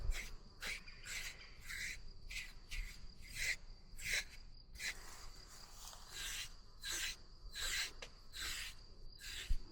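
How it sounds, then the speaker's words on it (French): A grooming brush sweeps over a horse's coat in a quick, irregular series of raspy strokes, close and fairly soft, with no voices. "J'adore cette brosse. C'est tellement satisfaisant."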